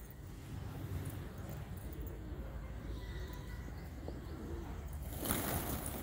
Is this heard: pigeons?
yes